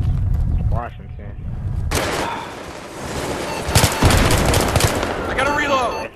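Gunfire in the video game Battlefield 3 comes as rapid machine-gun bursts and loud shots, dense and close, with players talking over the action.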